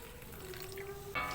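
Sprite soda poured into a pan while cooking adobong isaw, a steady thin liquid stream running under kitchen background, with a brief louder splash near the end.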